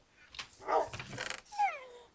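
A dog in the Minecraft video game gives short growls and a few yips and barks, quiet and brief, with a whimpering, whining tone at the end.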